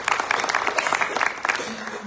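Part of an audience at a community gathering gives brief scattered clapping, a few seconds of light, uneven applause with some murmuring.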